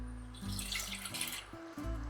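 Water running from a tap into a pot for stovetop stuffing, a soft continuous splashing stream heard close and alone.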